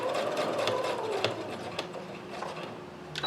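Sewing machine stitching a pleat along a marked line, a steady busy mechanical whir with small clicks and rattles, close and continuous throughout.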